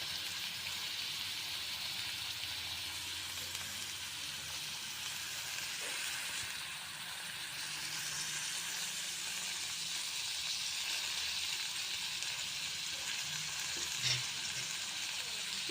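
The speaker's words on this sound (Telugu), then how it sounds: "ఇది ఫ్రై చేసుకున్నాం." Carrot and radish frying in a pan with salt and turmeric, a steady even sizzle close up with soft stirring, constant and unbroken throughout, no voices.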